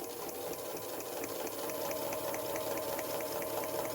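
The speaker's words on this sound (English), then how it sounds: "I'm just sewing straight down that line." A sewing machine stitches quilt backing with a steady, fast mechanical whir and rhythmic clicking, running continuously at moderate volume with no talking.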